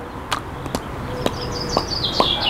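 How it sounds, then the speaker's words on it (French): Birds chirping outdoors behind a person, with a handful of short, bright tweets and rising calls over a soft background hiss, mixed with a few sharp clicks. "comme les oiseaux derrière moi"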